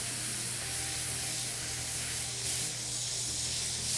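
Pressurized steam spray blowing through a garment to lift a blood stain, a steady loud close hiss that runs continuously with slight swells.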